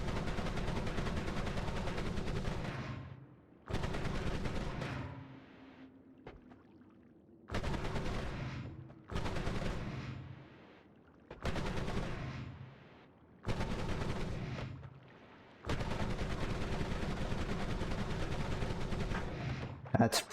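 Wand spells in a video game fire in rapid bursts with heavy recoil, loud gunfire-like volleys in repeated blocks separated by brief quieter gaps.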